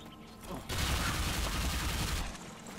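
Loud, dense gunfire from the video game Bulletstorm, a sustained burst of rapid shots and booms that starts abruptly after a quieter opening and runs to the end.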